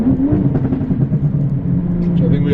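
Deep exhaust burble from a heavily tuned BMW M235i making about 682 wheel horsepower, a loud, close, uneven rumbling idle with irregular pops, and a person talking over it.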